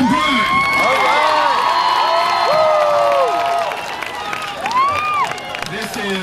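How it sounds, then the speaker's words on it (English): A crowd at a civil rights march and rally in a park in Sanford, Florida, claps and cheers loudly with whoops and shouts, the noise sustained and gradually thinning near the end. "A round of applause all the way from Baltimore, Maryland, Reverend Jamal Bryant."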